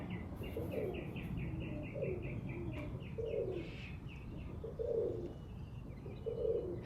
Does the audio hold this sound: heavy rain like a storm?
no